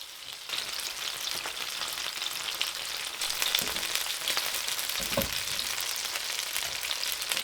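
Chicken dumplings frying in an oiled pan with toasted sesame oil: a constant, close hiss and crackle of sizzling oil, with a brief knock of the pan being shaken.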